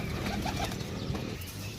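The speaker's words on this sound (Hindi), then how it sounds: "तीसरा कसूरी कबूतर" Kasuri pigeons cooing close by, a steady low, throaty murmur running through the whole moment with a few wingy rustles and no voices.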